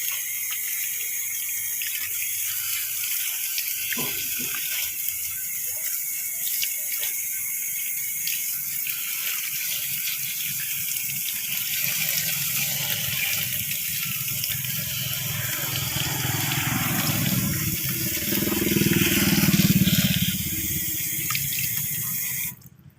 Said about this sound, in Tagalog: hugasan muna natin sa gripo